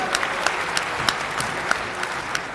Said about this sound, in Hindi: एक बार जोरदार तालियां आप लोग बजा दीजिए।